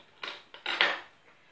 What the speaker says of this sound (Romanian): Și acum, o să am nevoie de un cuțit